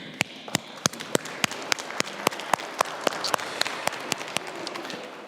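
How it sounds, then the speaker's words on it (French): Congregation applauding inside a church during Sunday Mass to welcome a child being baptized, with steady, even clapping and a few sharp individual claps standing out over the crowd. "Ça s'applaudit, ça s'accueille."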